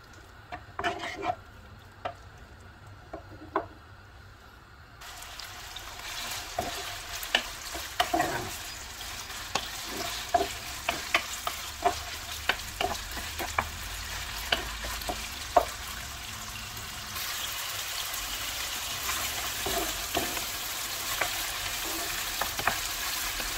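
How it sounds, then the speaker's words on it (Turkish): About 400 grams of beef cubes sizzle in oil over high heat, with a steady frying hiss that grows louder partway through and is broken up by frequent scrapes and clicks of stirring, with no talk. "Yüksek ateşte ara ara karıştırarak kavuralım."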